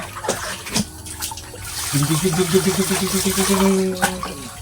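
Water splashes steadily while Thai ranger soldiers bathe a tick-infested dog outdoors, with a whining, tonal voice-like sound rising over the sloshing in the second half.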